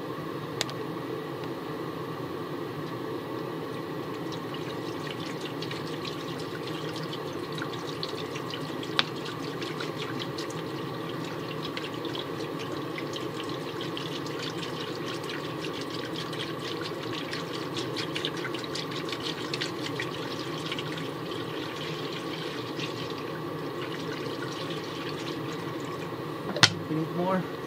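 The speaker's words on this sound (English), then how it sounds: "Now we can start pouring some coolant." 50-50 coolant and water mix is poured into the cooling system of a 2007 BMW X3 being repaired for a coolant leak, a steady liquid rush running continuously with a few faint clicks.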